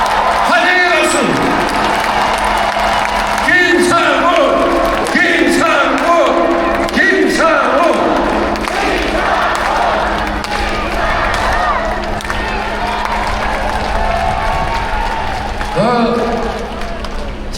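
A crowd at an outdoor campaign rally in a station plaza claps and cheers, a broad wash of applause with sharp bursts, heard alongside an amplified voice speaking over a sound system.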